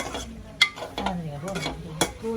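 Tomatoes are stirred and fried in a pan, with a soft sizzle under scraping spoon strokes and a couple of sharp clinks against the metal, close and moderately quiet.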